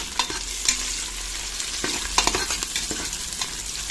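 Green chillies fry in a hot pan with oil while being stirred, a steady broadband sizzle broken by a few sharp scraping clicks of the spoon, close and fairly loud with no voices.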